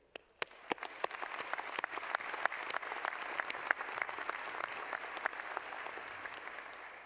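An audience at a medical school white coat ceremony at the Kansas City campus breaks into applause, starting with a few sharp individual claps before swelling into steady, dense clapping that holds to the end.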